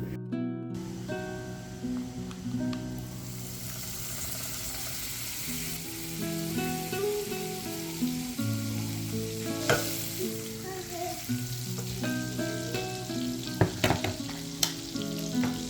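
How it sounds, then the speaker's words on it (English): Butter melts over medium-low heat in a pan with garlic, giving a steady soft sizzle and frying crackle with occasional stirring and clinks of a utensil, no talking. "melt 4 teaspoons of butter in a pan"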